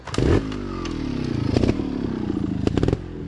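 Trials motorcycle at Brushy Mountain revving hard as its rear tire spins on rock, loud and close, with a steady engine drone, rising bursts of throttle and intermittent clattering scrapes of tire against stone.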